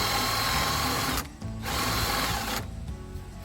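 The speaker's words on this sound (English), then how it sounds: "So I'm using a 1-inch spade bit. And I'm just putting a counter bore in" A drill drives a 1-inch spade bit to bore a counterbore while installing trailer skirting: a loud, close, steady grinding whir that breaks off briefly twice, with no talking.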